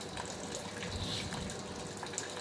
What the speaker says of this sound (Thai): ที่นี่น้ำตกห้วยจันฤดูฝนอย่างนี้น้ำเยอะมาก